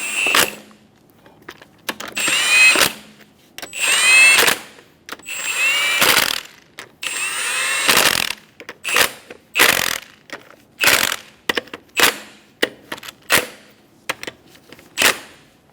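A power tool tightening the lug nuts on a 2003-2007 Honda Accord wheel: a series of loud, short whirring and rattling bursts with brief pauses between them, the later bursts quicker and more clipped.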